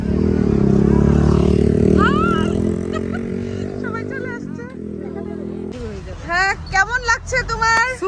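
A motorcycle rides along a scenic road near Sreemangal, its engine a loud steady drone that eases off midway, while someone talks over it and faint birdsong chirps in the background.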